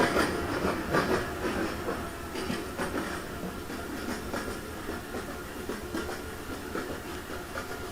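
A train in the Train Simulator Bangladesh video game runs steadily as it pulls out of Chittagong station at night, a continuous rumbling roar with faint rhythmic clatter and no voices.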